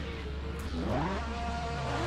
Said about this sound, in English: It's great to hear all the different engine sounds as well.